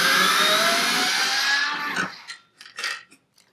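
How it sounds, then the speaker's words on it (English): A power driver spins out hex bolts on a Harley headlight bracket, a loud continuous whirring buzz that winds down after about two seconds, followed by a few short bursts of the motor, close up. "I just need to get my power driver, and I'm going to remove these 4 hex bolts."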